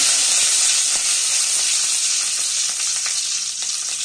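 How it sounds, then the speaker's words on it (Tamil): Loud, steady sizzling of a bunch of curry leaves frying in hot oil with mustard seeds for peanut chutney tempering, a dense hiss with faint crackles throughout. "ஒரு கட்டு கருவேப்பிலையை போட்டுக்கணும்"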